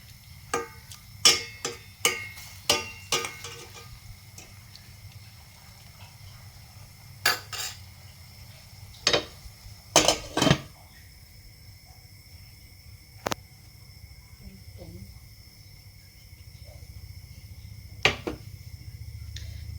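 A metal spoon knocks and scrapes against a pot while beef stew with sugar is stirred, giving scattered clinks in short bursts with quiet gaps between them.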